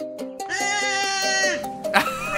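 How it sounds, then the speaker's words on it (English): Cartoonish goat bleat from Goat Simulator, a wavering, pitched cry over game music that runs most of the clip, with a brief burst of noise near the end. "Oh, look at a little goat."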